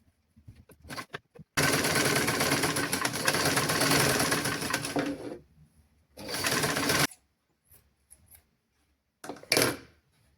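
A sewing machine stitches a children's garment at a tailoring class, running in a long continuous burst of rapid close needle chatter, then a shorter burst, with brief stops and small clicks in between.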